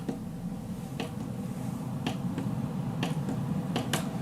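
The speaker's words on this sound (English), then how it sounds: "Now that's on full, so if you really want to blast the room" An air purifier fan running on full gives a steady, full-strength whoosh throughout, broken by a few sharp clicks scattered across it.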